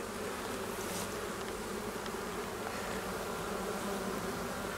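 Honeybees swarm and buzz around an opened hive colony at the end of overwintering, a dense, steady close-up drone with no voices over it.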